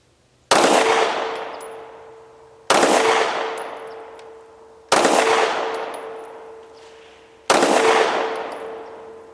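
Four loud pistol shots from a Rock Island Derya DY9 fired at targets, evenly spaced about two seconds apart, each a sharp crack with a long ringing decay, no talking.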